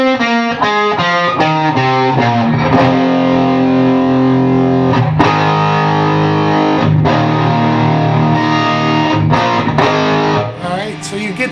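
Distorted electric guitar plays the rhythm part of a song, loud and continuous, with punchy chugging chord hits giving way to longer ringing chords, close and dense for about eleven seconds.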